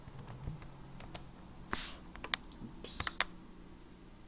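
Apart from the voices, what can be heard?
typing a name on a computer keyboard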